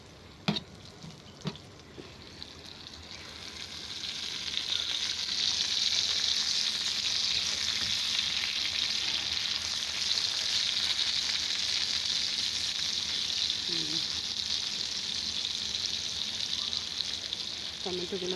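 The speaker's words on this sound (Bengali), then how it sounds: "এখানে আলু ভাজিয়ে নিচ্ছি।" Potatoes frying on a clay stove, a dense steady sizzle rising after a few seconds and holding evenly, with a couple of sharp clinks at the start and faint talk in the background.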